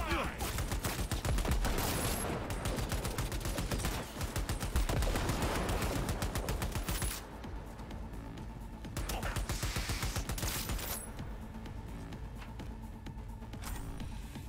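Dense, sustained automatic gunfire in the video game Cyberpunk 2077, loud and continuous for several seconds, then thinning into scattered bursts with faint talk underneath.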